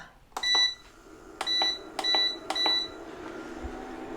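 A stove gives a series of short, sharp electronic beeps, spaced unevenly, as it is switched on to medium heat for making mango sauce in a quiet kitchen.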